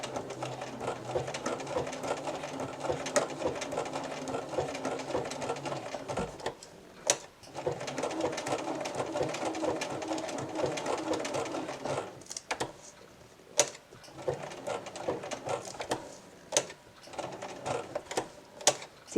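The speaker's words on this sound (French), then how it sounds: "je peux recommencer mon point feston sans couper mon fil" Bernina sewing machine running a blanket stitch on appliqué, a close, steady mechanical whir in sustained runs broken by short pauses and clicks.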